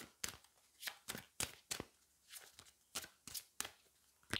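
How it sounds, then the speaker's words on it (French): Cards from a Magic of You oracle deck are handled close up, with quick papery shuffles and snaps coming in an irregular series of bursts. "on va prendre une carte du Magic of You"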